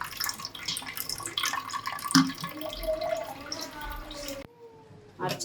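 Ground green chili and mint paste for pani puri is strained in a kitchen, with trickling, dripping liquid and soft clinks heard close by while someone talks.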